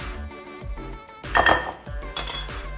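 Artichoke chips being tossed in a bowl, heard as a close series of crisp clinks and rattles against the dish, with a few louder bright clatters in a short burst and no talk.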